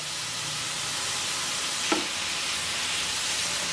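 Squash stir-fried with a little salt, garlic and roasted sesame for Korean bibimbap hisses steadily in the pan, with one brief knock of a utensil midway.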